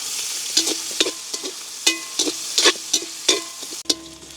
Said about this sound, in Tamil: நாங்கள் அப்படியே கிளறி விடணும் வெங்காயம் எங்களுக்கு கொஞ்சம் கூடுதலாக வதங்க வேணும்